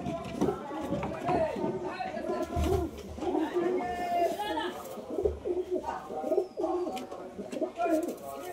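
Pigeons coo steadily in a loft, soft throaty calls overlapping with one another, while someone talks over them throughout and faint chatter and clatter sit in the background.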